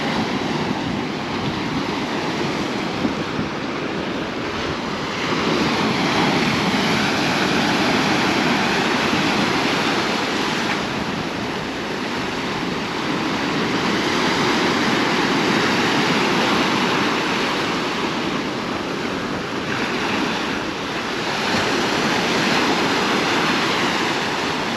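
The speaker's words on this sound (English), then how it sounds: "And you can see more waves here, looking quite rough." Rough sea waves surge and break along the rocky shore at Portixol, Mallorca, a steady broadband roar with swelling peaks every few seconds, continuous and close, with no voices.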